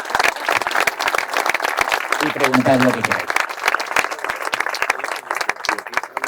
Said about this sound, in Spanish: Ahora sí podéis aplaudir.